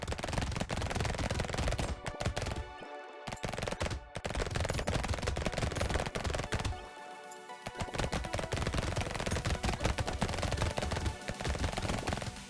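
Rapid, continuous SMG fire in the game Brotato rattles densely through the whole stretch, with a couple of brief gaps.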